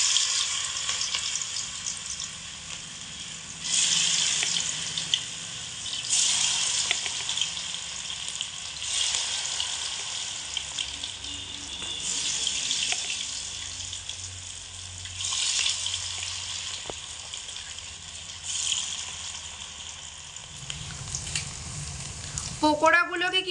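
Potato pakoras fry in hot oil in a sustained, loud sizzle that swells and eases in waves, with a low bubbling underneath and a brief scrape near the end.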